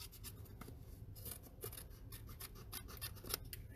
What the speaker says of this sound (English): We can just cut that off.